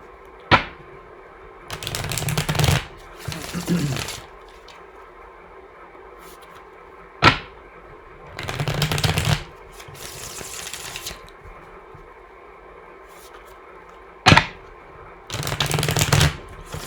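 A Cigana de Sorte card deck is riffle shuffled three times, each a sharp tap followed by a fluttering burst of cards snapping together, with quiet pauses between rounds.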